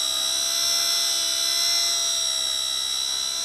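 Heli-Max Black Hawk RC helicopter flying outdoors, a loud, steady high-pitched electric whine from its motor and rotors that holds constant without a break.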